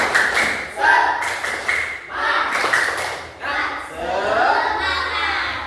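A classroom group claps in quick rhythmic bursts during an Indonesian clapping ice-breaker game, with patterned patting and thumps, while children chant along between the claps.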